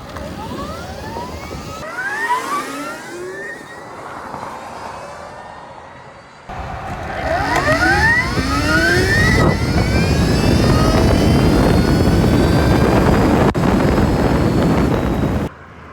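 A Stark Varg electric motocross bike makes a speed run, its rising electric motor whine sweeping up in pitch through two acceleration passes, mixed with heavy wind buffeting and rumble that grows loud and steady before cutting off.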